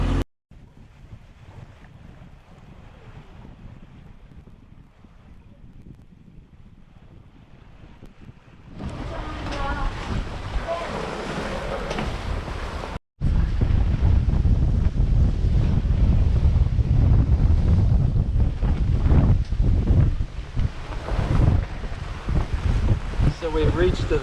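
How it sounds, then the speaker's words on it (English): Wind and waves while sailing off Pico in the Azores: a quieter stretch of wind rumble and water rush, then a much louder, steady roar of wind buffeting the microphone with surf noise after a brief dropout. "So it looks like a nice little wind to sail on too."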